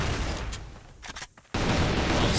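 Grenades and gunfire in a CrossFire esports match on the Compound map: loud overlapping bursts of shots and booms, a brief near-silent gap, then a heavy wall of gunfire resumes.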